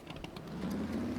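A car engine in the video game SCUM hums low and steady, swelling slightly louder as it draws nearer, with no voices over it.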